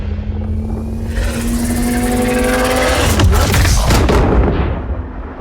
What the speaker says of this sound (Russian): звучит как выстрел с дилеем и реверберацией